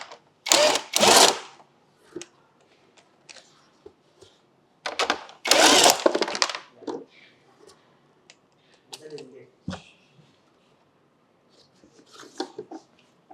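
A socket wrench undoes 12 mm bolts on a Dragonfly 3WF backpack fertilizer sprayer. Two loud bursts of ratcheting are followed by softer clicks and knocks, with someone talking between them.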